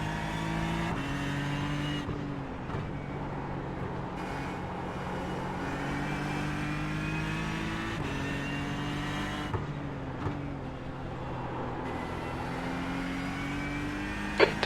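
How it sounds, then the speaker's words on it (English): A Ford GTE race car engine roars close and steady at Monza in a racing video game, its pitch climbing through gears and dropping sharply on repeated heavier downshifts, with no voices over it. "The downshifts feel a little heavier. It's more robust in tone."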